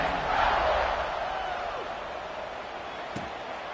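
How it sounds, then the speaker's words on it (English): Stadium crowd noise in the College Football 26 video game, a steady broad murmur and cheer that swells early then settles into a sustained buzz, with no voices heard over it. "this crowd is buzzing after that last score"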